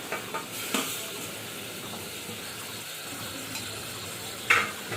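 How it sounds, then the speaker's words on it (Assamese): Goat meat in raw mustard oil inside a pressure cooker gives a steady, faint sizzling hiss, broken by a few light clinks and stirring noises and one sharper clatter near the end. "অকণমান কেঁচা মিঠাতেল দি এয়া কুকাৰত মাংসখিনি দি দিলোঁ"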